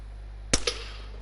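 A single sharp gunshot in DayZ cracks out close and loud, followed almost at once by a softer second report, over a low steady hum.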